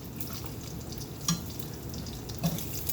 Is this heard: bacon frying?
yes